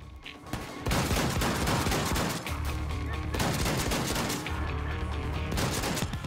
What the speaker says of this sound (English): Taste the shotgun.